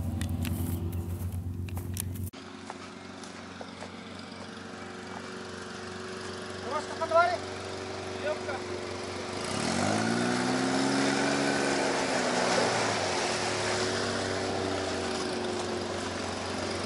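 An amphibious all-terrain vehicle's motor drones steadily throughout while it floats on water in Yakutia, dropping in pitch briefly before rising into a louder, sustained engine hum, with muffled outdoor background and no talk.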